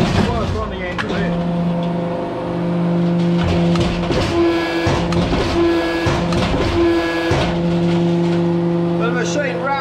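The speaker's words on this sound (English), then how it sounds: "The machine rattles around a lot because it's still on its packing pallet." A new 2023 Anyang ST 50-ton forge press, sitting unbolted on its packing pallet, runs with a steady humming drone while loose clattering knocks and rattles repeat irregularly throughout.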